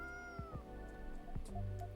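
A small cat meows, a few short close calls over a steady low background hum, with no one speaking.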